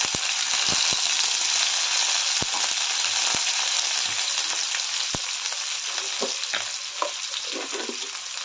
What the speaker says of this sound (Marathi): यामध्येच एक चमचा मीठ घालते हे सर्व चांगलं भाजून घ्यायचं आहे